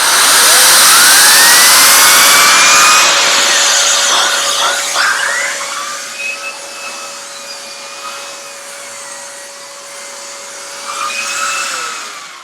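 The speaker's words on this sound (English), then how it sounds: "let's have a look at the mini turbo brush. Let's switch on. Probably be quite noisy." Hotpoint SLD10 bagged/bagless trolley vacuum cleaner running with its mini turbo brush, a loud steady whine and airflow roar with a rising pitch sweep, dipping slightly as the brush moves, with no talking.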